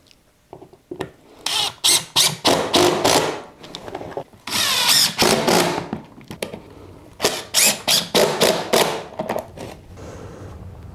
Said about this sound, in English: we'll blast some screws in that too